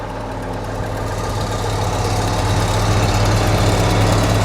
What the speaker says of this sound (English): You got a Case diesel, Detroit diesel, and a John Deere diesel running.